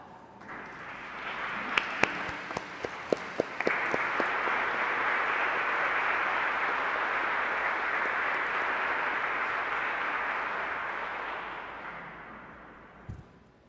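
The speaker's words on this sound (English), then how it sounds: "give them a round of applause as well" An audience at a 2019 Ancilla College honors convocation claps: a few scattered claps first, then dense sustained applause that slowly fades out.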